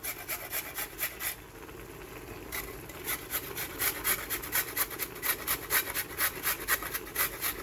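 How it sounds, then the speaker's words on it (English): Pumpkin grated by hand against a grater in rapid rhythmic rasping strokes, close and steady, with a short pause near the start before the scraping picks up again. "Let's grate some pumpkin."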